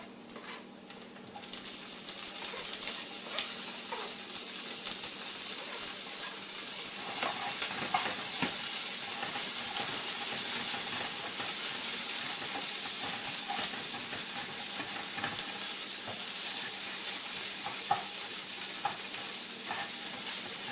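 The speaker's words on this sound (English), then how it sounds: "We're going to go ahead and toss in the corn now." Corn kernels hit a pan of already cooked onions and fry with a steady, close sizzle and hiss that holds for about twenty seconds, with occasional stirring scrapes and no voices.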